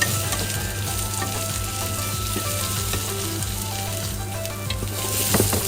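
Mushrooms, garlic and red chili stir-frying in a pan, a loud, steady crackling sizzle up close with scraping stirring throughout and no voices.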